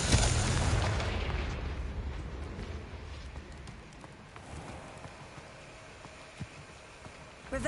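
In the video game Hogwarts Legacy, a Confringo blasting spell explodes with a loud, close boom at the outset, then a long crackling, rumbling tail that slowly fades with scattered debris pops.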